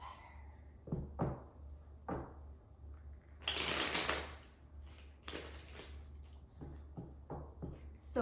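Tarot cards are shuffled by hand in a quiet room, close and fairly faint: a few soft taps and riffles, then two longer bursts of riffling flutter, followed by light card taps.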